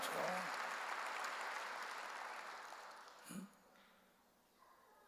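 Congregation clapping during a church sermon, a thick burst of applause that gradually fades over a few seconds, with a faint breathy sound partway through and quieter room noise at the close.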